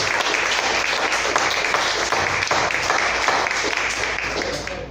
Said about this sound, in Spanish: Dale otro aplauso, sí. Dale otro aplauso.